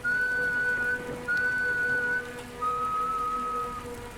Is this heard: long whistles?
yes